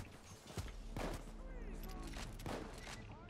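Pistol shots in Payday 2, a few sharp reports spread across a short busy stretch of game noise, with voices talking over them.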